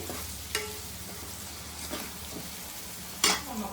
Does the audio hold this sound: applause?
no